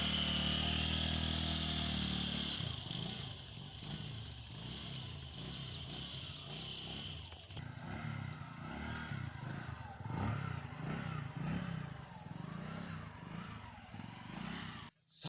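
A motorcycle engine runs steadily throughout, a mid-pitched continuous drone with some clatter and a brief idling-like tone at the start, heard up close and fairly loud.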